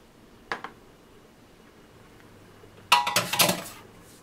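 A metal Turkish coffee pot is set down on a stove burner. A short clink comes first, then after a pause a louder cluster of metallic clatter and scraping. The scene is otherwise quiet and no one speaks.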